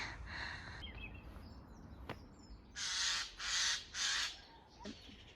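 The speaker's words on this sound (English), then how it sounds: "Oh, it's a jay! They're jays!" Jays in a UK allotment garden give three loud, harsh squawking calls in quick succession, with a few fainter calls and outdoor ambience around them.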